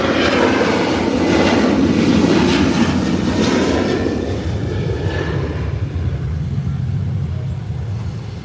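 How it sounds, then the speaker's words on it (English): A United Airlines jet roars down the runway on its takeoff roll, a loud, sustained broadband engine rumble that swells early and then holds steady and strong without letting up. "And here comes United Airlines, tunneling down the runway in preparation for takeoff."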